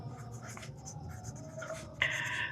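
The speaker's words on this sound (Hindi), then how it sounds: "तो यहां पे हम लिखेंगे" Pen writing on paper for a maths exercise, soft scratchy strokes running close and quiet throughout, with a slightly louder stroke near the end.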